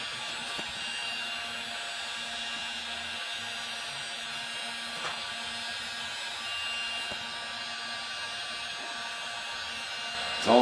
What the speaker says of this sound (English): just work the heat gun down and get the rest of it covered